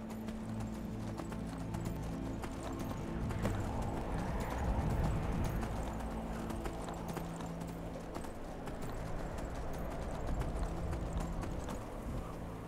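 Horse hooves clip-clop steadily in the game Skyrim, a rhythmic trotting under a low, continuous ambient drone and faint background tones.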